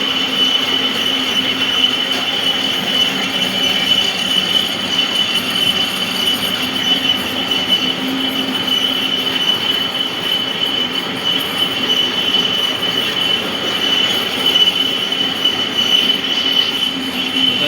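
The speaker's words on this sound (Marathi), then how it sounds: "बघू शकता हे लेथ मशीन आहे ते" A lathe in a marine engineering workshop runs steadily while balancing a boat propeller, producing a continuous loud mechanical hum with a sustained high metallic whine and grinding undertone throughout, no voices present.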